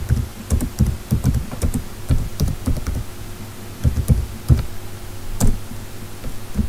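Fingers type on a computer keyboard in irregular bursts of close, crisp key clicks and thunks, with brief pauses between runs and no talking.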